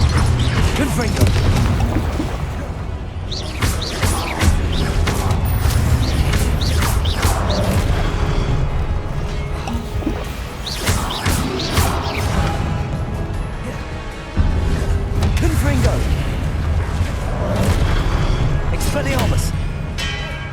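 Repeated Confringo blasting-spell explosions in Hogwarts Legacy, booming and crashing one after another over a continuous dense game soundscape, with a voice calling out spell names throughout.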